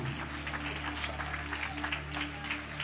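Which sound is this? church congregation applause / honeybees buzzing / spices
church congregation applause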